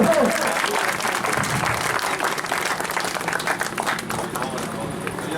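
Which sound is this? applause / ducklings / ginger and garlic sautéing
applause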